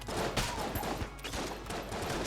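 Gunfire in the video game Enter the Gungeon, a dense continuous volley of rapid synthetic shots rattling nonstop at close range and full loudness, with no talking over it.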